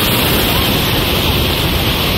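Steady broadband wash of surf on a beach in Bimini, Bahamas, with wind buffeting the microphone and no distinct voices.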